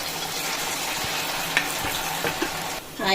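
Susiyam snacks deep-frying in hot oil, giving a steady, dense sizzle throughout with a few sharp crackles and pops near the end and no voices.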